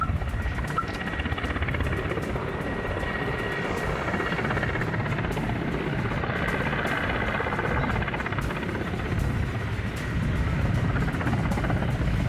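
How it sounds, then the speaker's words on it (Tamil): A military helicopter's steady rotor thrum and engine drone fill the whole stretch, loud and continuous, with no voices, during a rehearsal flight in Tiruppur, India. "ராணுவ ஹெலிகாப்டர் ஒத்திகை தற்போது நடைபெற்று வருகிறது."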